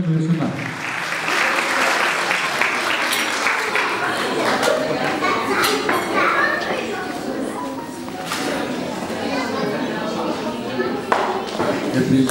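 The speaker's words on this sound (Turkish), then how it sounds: "kuvvetli alkışlarla" Sustained applause from an audience at a Women's Day and martyrs' commemoration program, steady clapping filling the hall for about twelve seconds with crowd murmur mixed in.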